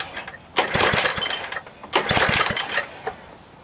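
A 1960s Ariens snowblower engine being pull-started up close: two loud bursts of rope-pull cranking, each with rapid low thumps and rattling sputter, separated by a brief lull.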